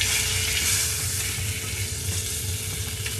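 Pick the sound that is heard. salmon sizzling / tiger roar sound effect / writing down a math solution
salmon sizzling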